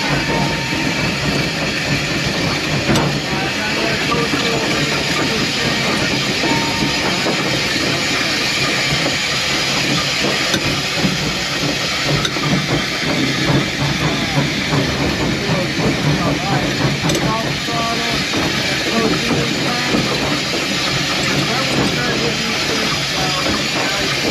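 Steam locomotive on the Pioneer Tunnel Steam Train runs with a constant loud hiss of steam and a steady chugging rumble, without pause, close by.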